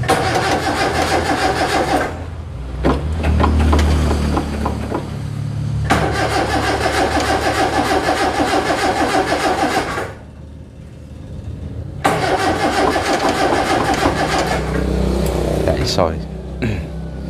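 A Daihatsu Zebra 1.3 with a carburetor and hard-starting trouble cranks and fires up, then idles and revs in close, loud stretches broken by brief pauses, with people talking near the engine.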